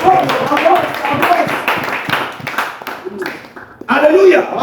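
A church congregation claps and applauds, a dense ongoing patter of hands beneath a voice speaking loudly over it.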